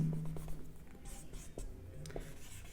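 A pen scratches on paper while a maths solution is written out, giving soft, close strokes and taps in short bursts with faint room noise behind.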